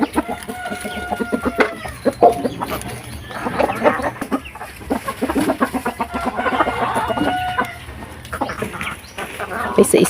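Pet chickens cluck busily while being fed, with repeated close clucks and squawks in uneven bursts and a person talking at times.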